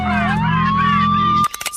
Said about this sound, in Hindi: पोलीसचा सायरन.